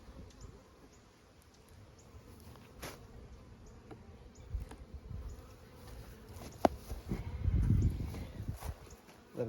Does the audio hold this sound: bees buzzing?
yes